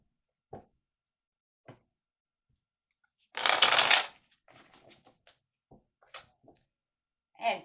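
A tarot deck shuffled briskly in the hands, a dense riffle burst followed by scattered light card taps and slides, close and quiet with no talk.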